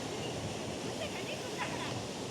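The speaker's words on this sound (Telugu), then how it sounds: "అలలు అయితే చూడండి ఫుల్ వస్తున్నాయి." Rough sea waves roll in at a beach in Pondicherry after morning rain, a constant broad roar of surf with a brief brighter splash partway through, heard close and alone.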